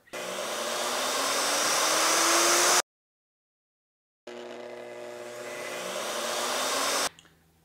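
Bosch router plunging a mortise in a sawhorse jig, a loud steady whine with a rising pitch that runs for about three seconds, cuts out, then starts again for a second pass before stopping.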